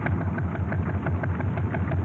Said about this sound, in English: The motorboat, in which we are traveling upstream on the Bara Ise